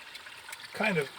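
Water trickling and splashing from a farm waterway discharge outlet, a soft steady flow that swells louder near the end, heard outdoors.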